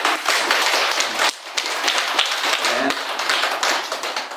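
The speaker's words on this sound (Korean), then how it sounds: "박수 한번 해드립시다." Temple congregation at a Buddhist dharma service claps in steady, dense applause lasting several seconds, with a brief pause partway through before it resumes.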